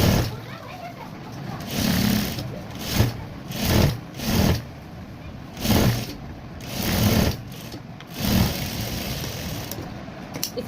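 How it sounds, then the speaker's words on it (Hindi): Sewing machine stitching the neckline of a suit, running in repeated short bursts with brief pauses between them, close and fairly loud. "इस तरीके से हम इनको स्टिच कर देंगे।"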